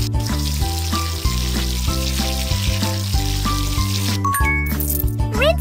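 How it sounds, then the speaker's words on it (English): Dishes are washed in a pet care video game, with a splashy, sizzling water noise and light clinks running under steady upbeat game music, ending in bright chime sounds. "Let's wash the dishes!"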